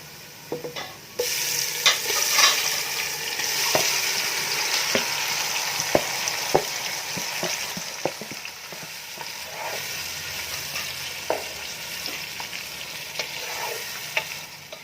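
Marinated meat for biryani fries in a hot pot, a loud, steady sizzle broken by scraping stirs and sharp clinks of a spoon against the pot, with no voices heard.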